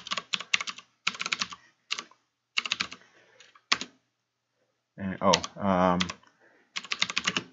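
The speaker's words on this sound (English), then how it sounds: "I'm using the up arrow key to bring up the previous command" Keys tap out commands on a computer keyboard while a Raspberry Pi web server is being set up, in short quick bursts of close clicks between spells of a man's speech.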